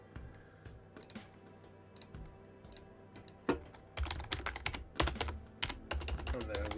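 Typing on a computer keyboard while a new user account is set up: sparse, light key taps at first, then faster, louder bursts of clacking near the microphone. No one speaks.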